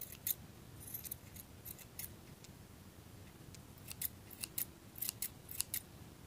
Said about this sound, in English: So just trim all these around to make it nice and neat, and all about the same size.